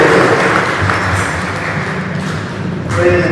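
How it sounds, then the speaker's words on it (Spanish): A church congregation applauds two siblings at a baptism. The clapping is loud and steady, washing through the room, with a slight swell near the end. "vamos a dar fuertes palmas por estos hermanos"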